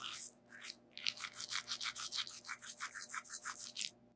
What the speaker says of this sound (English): I brush my teeth.